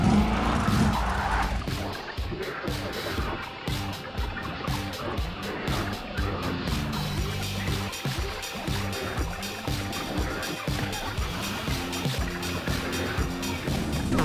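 Cartoon Hot Wheels cars reverse and skid, with screeching tires and engine noise running through a busy, fairly quiet action mix along with music and effects.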